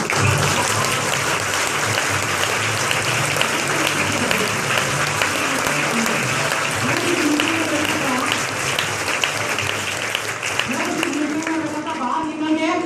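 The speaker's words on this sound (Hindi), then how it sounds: "आज आपके सामने ये लोग हैं और आप कैसी ताली बजा रहे हो?" A large audience bursts into sustained applause at a business testimonial event, a dense, loud wall of clapping that runs throughout, with voices calling out beneath it.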